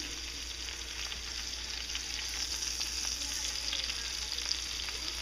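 Egg-and-flour dipped elderberry food frying in a pan, a steady close sizzle and crackle with faint pops throughout, no voices.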